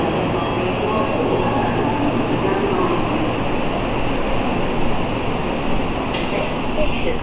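Inside a moving London Underground train, a loud, steady rumbling roar of wheels and carriage noise fills the whole stretch with faint clatter, and a voice speaks over it.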